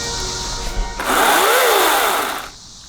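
Power tool cutting off the sharp edges of a wooden indoor water slide, a loud, steady whine that starts abruptly after a second of room noise, holds with shifting pitch, then cuts out.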